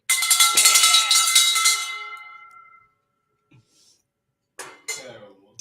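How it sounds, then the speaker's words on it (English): A metal bell, struck once to celebrate, rings out with a bright clanging tone that slowly fades over a couple of seconds. A voice follows briefly afterward. "Let me hit this weird bell and we're going to celebrate"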